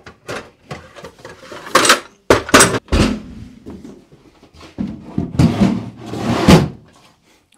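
Wooden drawer units are handled and fitted into under-drill storage, giving a series of close knocks, sliding scrapes and sharp thumps, some clustered and some spaced, with brief quiet gaps between them.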